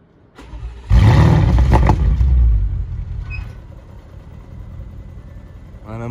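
An Audi RS6 engine cranks and fires with its exhaust valves open, a loud, deep close-up rumble that flares briefly and then settles into a steady burbling idle, with a faint voice and a chime near the end.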